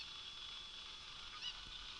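Cucco chicken in Zelda: Ocarina of Time gives a faint, brief honking cluck over a quiet hum of background game ambience.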